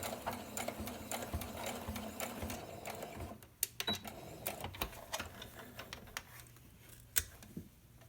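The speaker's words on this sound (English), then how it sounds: "Just going to sew it and backtack it a couple of times." A sewing machine stitches down a fold on a face mask with pockets and wire, running steadily at close range with brief pauses and quick reversals for backtacking.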